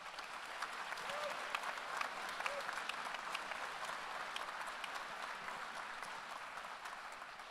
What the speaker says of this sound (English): And now you may clap.